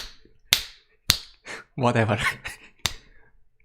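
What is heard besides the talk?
finger snapping attempts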